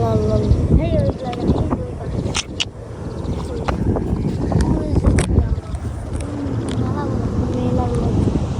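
Steady wind rushes and buffets across the microphone throughout, a loud roaring blow with occasional gusts, while people talk underneath, at the Teesta solar project in Bangladesh.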